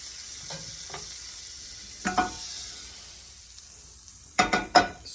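Butter sizzles in a hot pan while sourdough sandwich bread is being made, a steady bright hiss with a few louder scraping stirs near the end, close and alone.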